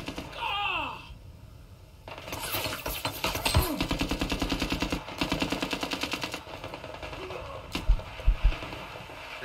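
Rapid bursts of automatic gunfire from the VR shooting game Zero Caliber VR, loud and dense, with sharper single shots toward the end.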